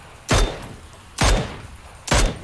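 Three loud, close gunshots from PUBG gameplay ring out at even intervals, each a sharp crack followed by a short decaying tail, with no talk over them.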